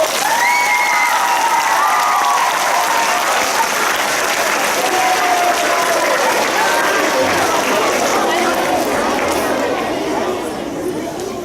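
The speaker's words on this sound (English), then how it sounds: "Let's give her a round of applause." Audience clapping steadily at a primary school assembly in a hall, dense continuous applause with some chatter mixed in, loud and sustained throughout.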